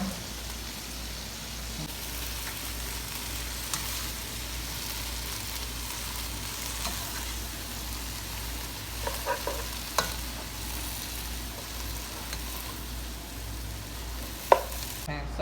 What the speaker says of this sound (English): we're going to make sure we stir it so that it doesn't stick